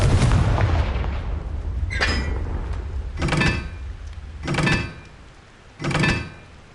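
Four heavy booming blasts from the Confringo spell in Hogwarts Legacy, spaced roughly a second or so apart after a noisy lead-in, each a sharp loud impact with a short decaying tail.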